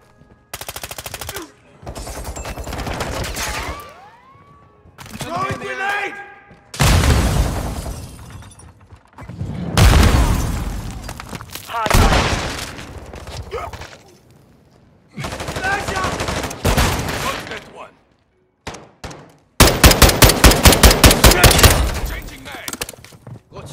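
Rapid bursts of automatic gunfire and sharp shots crackle in a Call of Duty: Modern Warfare II firefight, loud and close, arriving in separate clusters with brief gaps and a dense final volley, with glassy shattering mixed in.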